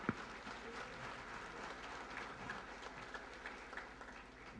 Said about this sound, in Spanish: recibamos con un fuerte aplauso al profesor Zalay Martín para que nos acompañe